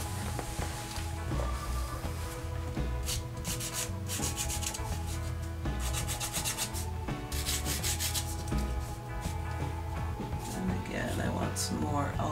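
A pastel pencil is sharpened during a pastel drawing, giving repeated soft scraping and rubbing strokes in a steady rhythm, close and fairly quiet, with music or other background sound running underneath.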